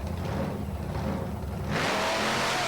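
Grave Digger monster truck engine roars in a 1993 Lebanon Valley race against UFO, a loud continuous rumble that surges harder toward the end.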